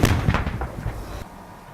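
Gunfire in a US Marines firefight in Afghanistan: a rapid burst of loud, close shots with sharp repeated cracks over about a second, ending abruptly into quieter background.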